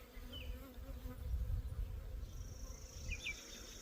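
Bees buzz around a homemade beehive built from trash, a steady low hum of many insects close by that holds through the whole stretch with faint higher tones drifting above it.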